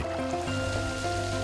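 Stream and cascades flowing through a valley, a steady, continuous rush of water at moderate level with no voices.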